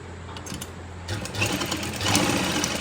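Sewing machine stitching palazzo pants, a close steady mechanical whir that starts quietly and grows louder and busier partway through, running alone without talk.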